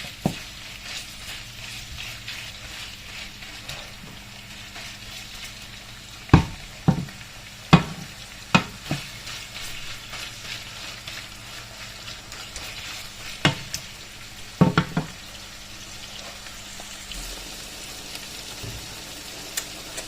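Food sizzles briefly in a home kitchen pan with a steady low frying hiss, broken by several sharp clacks and scrapes of stirring utensils against the pan; no one talks.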